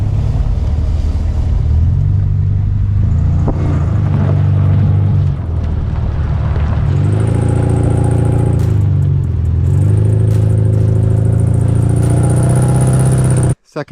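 A car driving off-road along the Alexander Mackenzie trail, its engine droning steadily and loudly throughout with heavy wind buffeting the microphone, closely recorded, ending abruptly.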